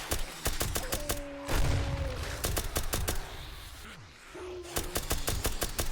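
Heavy-recoil gunfire in the 7 Days To Die Escape From Tarkov mod, with rapid repeated shots in bursts, loud and close, broken by short pauses and one brief gap near the middle.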